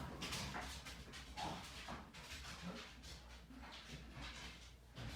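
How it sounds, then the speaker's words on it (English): Dogs whimper and give short yips and barks indoors, a low steady stream of restless canine noise close by with no speech over it. "I gotta let these dogs out."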